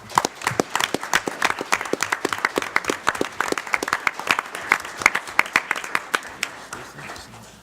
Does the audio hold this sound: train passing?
no